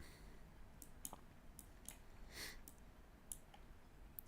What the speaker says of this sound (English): Sorry, I have a habit of like clicking around a lot.